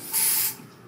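Lace spray from an aerosol can misted onto the front lace of a wig, one steady hissing burst about half a second long, close and fairly loud, then quiet.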